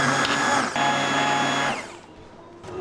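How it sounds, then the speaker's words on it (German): Hand blender pureeing softened vegetables with cream in a one-pot dish, a steady close whirring motor drone that shifts pitch slightly, then cuts off and leaves quiet background. "Und dann nur noch pürieren."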